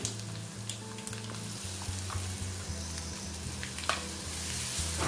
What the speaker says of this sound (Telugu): మొత్తము కూడా బాగా ఫ్రై చేసుకోవాలండి పోపంతా కూడా బాగా వేగనివ్వాలండి